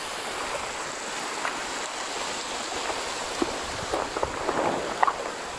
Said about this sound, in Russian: Водопад я вам заснял